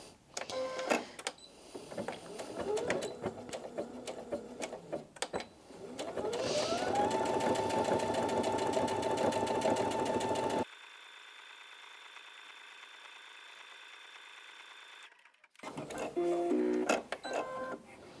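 A Brother Innov-is NV2700 sewing and embroidery machine sews a triple straight stitch on fabric. A rapid mechanical chatter starts and rises into a steady whirring hum, shifts to a quieter drone, then stops abruptly before short clicks and handling sounds.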